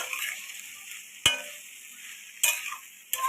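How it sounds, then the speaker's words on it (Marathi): Soaked poha with onion and coriander being stirred in a frying pan, a soft sizzle broken by three sharp scrapes and clinks of the utensil against the pan, spaced over a few seconds. "आता हलवून घेऊया।"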